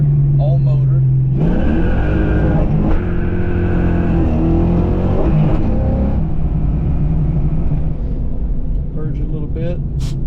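A 1988 Mustang LX with a 331 stroker engine idles, then accelerates hard in first gear, the loud rising engine roar sweeping up and dropping off; a voice talks briefly at the start.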